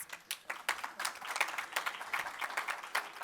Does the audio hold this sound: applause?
yes